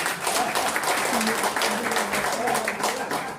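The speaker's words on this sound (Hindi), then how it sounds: "इतना इन्होंने कहा, जोरदार ताली।" Audience applause at a seminar on life insurance plans, a loud burst of dense clapping sustained for a few seconds, with some voices mixed in.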